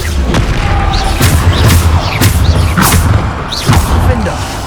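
Repeated Bombarda spell blasts in Hogwarts Legacy, a run of loud booming thuds with bright bursts layered over constant game din and a speaking voice.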